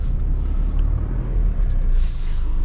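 A car's engine rumbles steadily and loud, close by, as the driver shifts into reverse gear, with a constant low drone and no voices.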